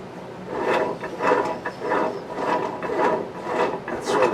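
A T96 manual transmission on the bench, dry, is shifted from neutral into first gear, giving a steady run of close, rhythmic rasping and ratcheting clicks with no voices.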